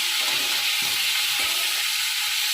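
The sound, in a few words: cauliflower being stirred and fried in oil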